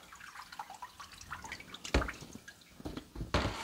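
Water runs into an aquarium as it fills during setup, making close splashing and dripping with irregular louder gushes.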